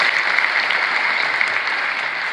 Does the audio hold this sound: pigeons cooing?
no